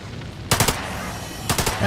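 Automatic gunfire from Lamplighter's League mows down enemies in two sharp, loud bursts of rapid shots, each about a quarter second long, separated by a quiet stretch.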